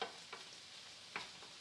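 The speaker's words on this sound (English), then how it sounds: "let it get that sizzle and brown" Beef sizzles quietly in a hot electric skillet, a soft continuous crackle with a couple of brief scraping stirs.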